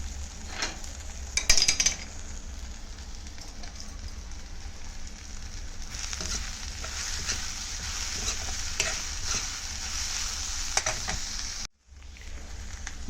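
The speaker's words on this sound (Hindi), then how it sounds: "मटर पीस के मैंने तड़का लगा दिया है।" Ground peas sizzle steadily in hot mustard oil for a tempering, a dense continuous frying hiss with a brief stir near the start and a short dip near the end.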